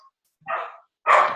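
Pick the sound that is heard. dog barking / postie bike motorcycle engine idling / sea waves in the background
dog barking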